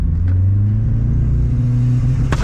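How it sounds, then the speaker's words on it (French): A VW Golf 2 with a 1.3-litre turbo engine idles loudly and revs at close range, a steady low rumble held throughout. "Vas-y, essaye d'accélérer là."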